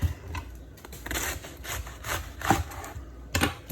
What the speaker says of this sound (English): I usually cut it starting at the top here so I can get the circular parts. And then long strips.